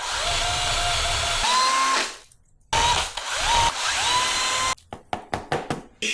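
Handheld DeWalt power drill boring holes into a taped wooden knife-handle block, with two long whining runs and a pause, then a burst of short rhythmic trigger pulses near the end; loud and close, no talking.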